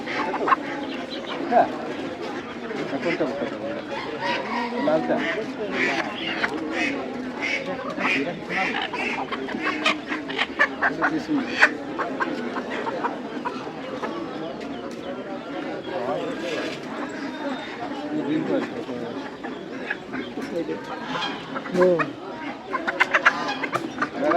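Chickens cluck and ducks quack amid the bustle of an outdoor village poultry market, a busy overlapping chorus of birds with people talking throughout.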